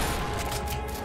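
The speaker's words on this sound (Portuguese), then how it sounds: "Tão me dando tiro aqui." Rapid gunfire from a Fortnite match during a championship, a dense, continuous burst of shots and booms filling the whole second, loud and close with no clear gaps.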